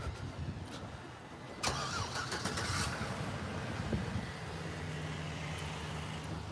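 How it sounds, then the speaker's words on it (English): A car engine in a street setting cranks and catches with a sudden burst, then settles into a steady mid-pitched idle, heard from a moderate distance over background traffic noise. "His car is starting and he's getting back in the truck now."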